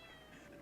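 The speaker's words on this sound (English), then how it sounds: "You know what good food is, don't you? You mangy old cat." A cat meows in one short, clear call at close range with no other sound, in a Wild West setting.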